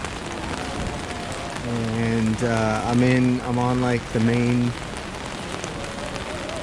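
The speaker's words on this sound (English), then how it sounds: "It is a rainy day here" Rain falls steadily on a main walking street lined with cafes and shops in Salerno, Italy, a continuous close hiss and patter that runs the whole time while someone talks over it in the middle.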